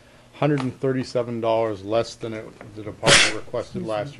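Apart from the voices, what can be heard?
a man sneezing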